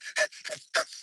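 A person imitates a dog panting in the heat, three quick breathy huffs in a close, dry rhythm with nothing else around.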